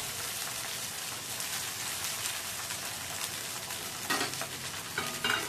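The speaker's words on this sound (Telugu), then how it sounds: "ఇప్పుడు మనం నిమ్మకాయ ఉప్పు కలిపెట్టుకున్న రైస్ని అందుట్లో వేసి పోపు బాగా పట్టేదాకా కలుపుకోవాలి" Lemon rice mixed with salt being stirred into a tempering in a hot pan, giving a steady, close sizzle and scrape with a few louder stirring bursts near the end.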